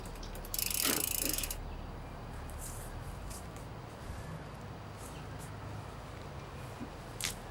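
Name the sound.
e-bike chain and freewheel ratchet clicking as wheel wound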